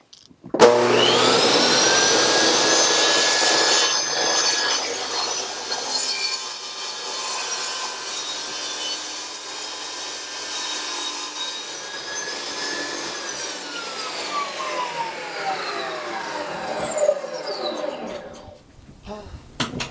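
A power saw rips through a wooden farmhouse trash cabinet top, cutting it in half with a loud, sustained whining buzz that drops in pitch under load, then spins down near the end, close up with a brief voice.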